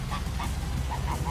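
Angry geese give a series of short, nasal honks, about five quick calls at moderate distance over a low background rumble.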